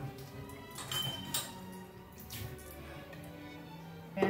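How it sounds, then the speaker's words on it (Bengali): A pan set down on a kitchen stove while cooking gives a few quiet metallic clinks and knocks, with soft clatter and faint drips between them. "প্যানটা বসিয়ে দিলাম"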